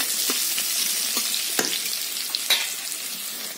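Onion frying in a pan with steady bright sizzling and occasional scraping strokes of a spatula as it is stirred, close and continuous, no talking.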